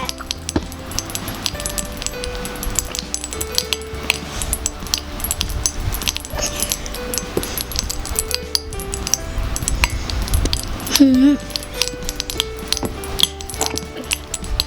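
Popping candy crackling with cola, a dense scatter of tiny quick pops and clicks running throughout, faint and close, over a soft tonal background.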